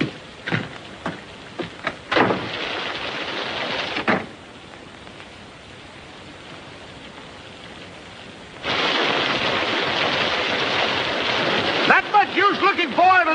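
A thunderstorm in an old 1939 western film, with crackling bursts and sustained stretches of heavy rain-like hiss, loud and close, broken by a quieter pause.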